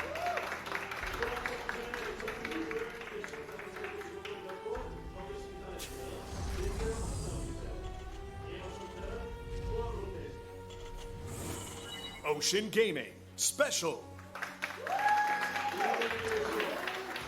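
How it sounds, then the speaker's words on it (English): Crowd at a StarCraft II GSL 2019 tournament match cheers and applauds in a steady wash of clapping and voices, with commentators talking over it throughout. "is like literally half the crowd cheering for SpeCial?"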